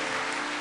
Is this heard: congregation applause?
yes